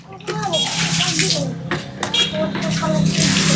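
Water pours and splashes loudly into a basin in several surges, with a voice briefly audible underneath.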